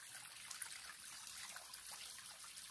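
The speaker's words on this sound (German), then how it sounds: "Das ist dann wieder der Überlauf vom See. Man sieht, es fließt auch." A small stream of overflow water from Laacher See trickles steadily, a faint, continuous watery babble with no voices.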